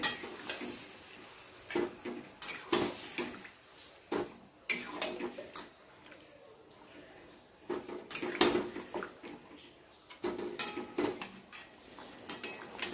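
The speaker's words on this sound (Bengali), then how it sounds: "ভালো করে নাড়িয়ে নিতে হবে আগে।" A spoon clinks and scrapes against a pot while chicken in yogurt is stirred over a low gas flame, giving irregular, fairly close metallic taps and scrapes with quiet gaps between them.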